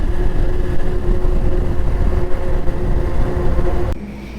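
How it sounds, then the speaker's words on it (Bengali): A vehicle cruises along a highway on a road trip toward Tarapith, giving a loud, steady rumble of engine and road noise that drops away abruptly just before the end, with no talking. "হাইওয়েতে একটু গাড়িটা টেনে নিই"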